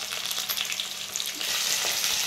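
Garlic paste and eggplant sauté in hot oil in a pan, giving a steady, close sizzle that swells louder partway through as stirring continues.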